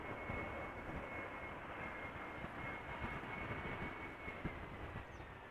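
A passenger airplane approaching the runway at Amsterdam Schiphol Airport gives a steady, broad engine roar that holds at an even level throughout, with a faint sustained whine above it.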